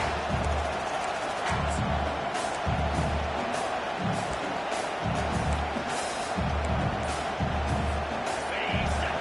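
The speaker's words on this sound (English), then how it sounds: "The roar of the crowd trying to fuel this defense to keep them pinned in their own end." A dense, continuous crowd roar fills a football stadium during a college game between Ohio State and Texas, loud and steady throughout, with swelling surges and low thumping bursts underneath.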